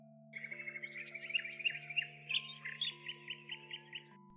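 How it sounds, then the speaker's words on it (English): Robins sing in quick, bright chirping phrases, a lively run of notes repeating over sustained soft background music tones. "The robins flew off,"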